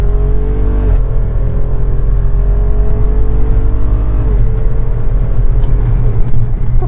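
A 2022 Jeep Wrangler Rubicon 392 with its V8 accelerating hard, a loud close engine roar climbing in pitch, dropping briefly at a quick gear shift, then pulling up again.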